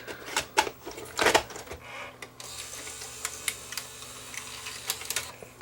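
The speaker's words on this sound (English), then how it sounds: "I'm going to try regular beta tape on here now" A Sony EDV7300 ED Beta VCR takes in a regular Beta tape with a run of mechanical clicks, clunks and whirring, loud bumps early then lighter ticking as the mechanism settles.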